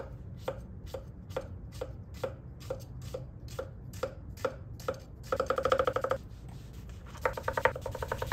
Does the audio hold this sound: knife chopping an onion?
yes